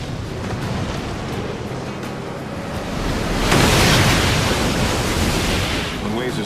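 Heavy surf at Cape Disappointment roars as a steady broadband wash, swelling louder about halfway through as a bigger wave breaks, with wind buffeting the microphone throughout.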